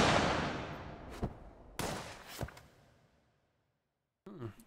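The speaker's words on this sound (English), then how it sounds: "Ah, I had an explosion." Explosions in a video game during a live stream, a loud burst with a long decaying rumble, followed by two more sharp blasts that fade into silence before a brief final noise.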